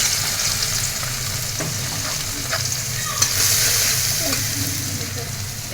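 Chopped onion sizzles in hot oil in a home kitchen pan while cooking rui fish with eggplant, a steady loud crackling fry with a few stirring clinks and scrapes throughout.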